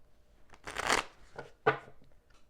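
Tarot cards being shuffled at close range, with a long riffling burst followed by a couple of shorter flicks and light handling noise, without any talk.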